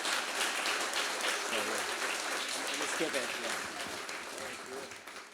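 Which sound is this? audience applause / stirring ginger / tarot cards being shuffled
audience applause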